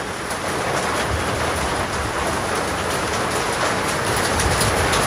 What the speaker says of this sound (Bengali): এখন বৃষ্টি লাগিয়ে দিয়েছে মোটা মোটা টোপ